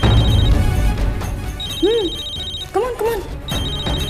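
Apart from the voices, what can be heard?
mobile phone ringtone ringing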